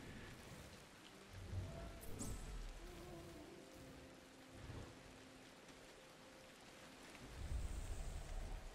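Steady in-game rain pattering on surfaces in Ancestors: The Humankind Odyssey, a continuous wash with low rumbling swells like distant thunder, mid-level and unbroken, with no talking.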